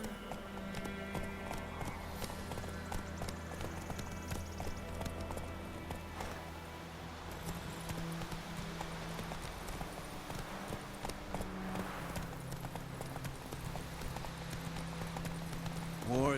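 Roach, the horse from The Witcher 3: Wild Hunt, gallops with a steady, close clip-clop of hooves that runs the whole time over a low, continuous game soundtrack drone.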